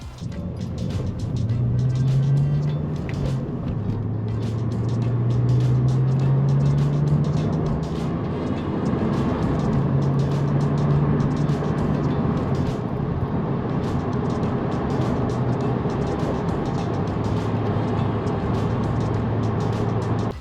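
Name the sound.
quiet car engine running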